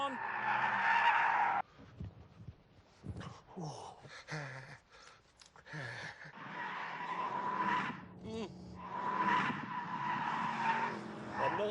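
Tyres skid and squeal under hard braking of a car in The Grand Tour Game on PS4, a loud sustained screech that cuts off, then returns over engine roar with choppy bursts between.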